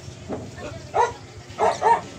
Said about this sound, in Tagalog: Mga aso na.